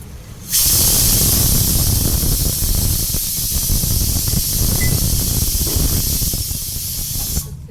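Boti (goat tripe) pieces frying with chili powder and salt give off a loud, steady sizzling hiss that starts abruptly and holds nearly the whole time, with faint crackles beneath.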